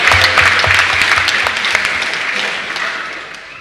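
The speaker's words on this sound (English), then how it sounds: "So, a round of applause for everyone." Audience applause at a talk on fascism and anti-fascist resistance, a dense roomful of clapping that starts loud and slowly tapers over a few seconds.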